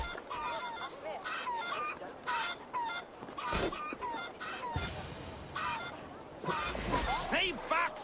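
Chickens cluck and squawk in Assassin's Creed Valhalla amid a lively village scene, with goose-like honks and fowl calls over steady game voices and background chatter.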